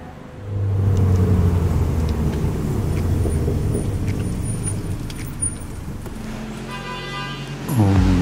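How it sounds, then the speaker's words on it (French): An Alpine car's engine rumbles steadily nearby on a factory test track with some road noise, a brief horn toot partway through and a louder surge at the end. "c'est la première fois que la voiture va rouler sur route"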